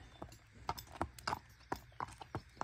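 A 14 to 15-year-old gelding horse's hooves clip-clop in an irregular series of sharp, moderately near footfalls over a quiet background at a sale lot.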